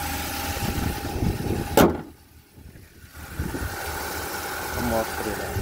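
Idling engine of a 2006 Ford Ka, a steady low rumble running through most of the clip with a brief sharp transient and a dip, under faint voices nearby.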